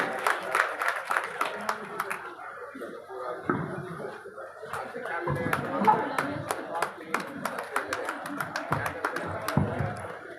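Scattered clapping from a small gathering welcoming guests at a village cheque presentation event, with uneven sharp claps rising and falling alongside voices and chatter in the room.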